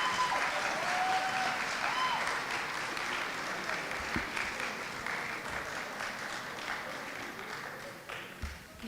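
Graduates and guests at an oath-swearing and awards ceremony give a sustained round of applause, a dense, even wash of clapping from a large crowd that slowly tapers off.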